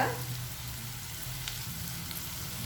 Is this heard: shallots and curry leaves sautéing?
yes